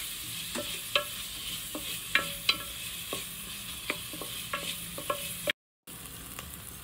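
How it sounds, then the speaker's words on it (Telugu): Chopped onions fry toward light brown in a pan for Andhra-style gongura chicken, giving a constant hiss of oil with scattered sharp ticks and clicks from stirring, interrupted by a brief moment of silence near the end. "ఇప్పుడు కట్ చేసి పెట్టుకున్న ఉల్లిపాయ ముక్కలు వేసి కొంచెం లైట్ బ్రౌన్ కలర్లోకి వచ్చేంత వరకు వేగించుకుందాం"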